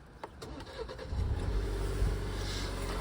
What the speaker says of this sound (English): So if I step inside the vehicle here and start it up for you guys